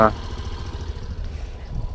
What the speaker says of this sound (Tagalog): start natin yung makina at ipaparinig ko sa inyo yung tunog nito kapag nag-start na